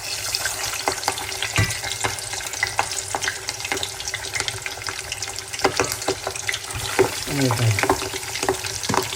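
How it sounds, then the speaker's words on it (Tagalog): Pork belly deep-frying in hot oil for lechon kawali, a steady loud sizzle broken by sharp pops and crackles throughout, with a brief exclamation from a voice near the end. "takpan natin guys kasi pumuputok siya"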